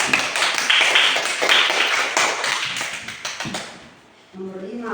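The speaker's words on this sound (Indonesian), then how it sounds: "tepuk tangan dulu. Fatia maju ke depan." Students in a classroom clap for a classmate in a burst of close, lively applause that thins out and stops, followed by a voice.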